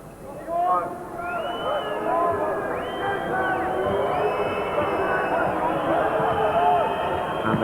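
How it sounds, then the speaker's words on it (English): A handball arena crowd at a Balkan Cup final in Dortmund, West Germany against the Soviet Union, keeps up a steady, loud roar of murmuring and shouting, with whistles rising above the din throughout. "And the crowd's frustration with their team becoming more and more evident."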